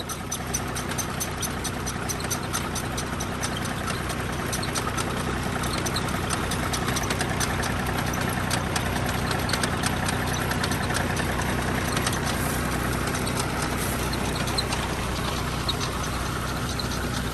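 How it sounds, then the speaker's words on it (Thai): An engine-driven water pump drains a deep pond beside rice paddies, its motor idling in a steady, loud, unbroken drone with a faint knocking rhythm that runs for the whole stretch, close by and with no voices. "คุณลุงเขาสูบน้ำออกจากสระนะคะ"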